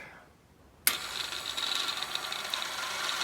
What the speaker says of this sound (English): we put the cheap Harbor Freight winch on here just to see if everything works